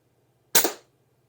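Umarex Gauntlet 2 air rifle firing a 43-grain pellet through a moderator: one sharp, short crack with a quick decaying tail in an otherwise quiet space.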